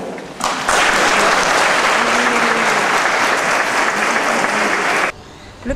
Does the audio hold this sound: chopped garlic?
no